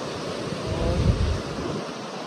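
Cold wind blows among deodar trees above a mountain river at Harshil, a broad steady rush with no breaks that swells a little in the middle and has no voices.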